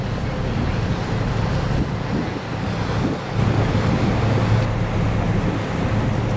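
Boat cruising down the river near Pinhão, Portugal, among terraced port vineyards: steady engine drone and water wash with wind buffeting the microphone, continuous and fairly loud throughout.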